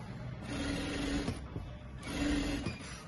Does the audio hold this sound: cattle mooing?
no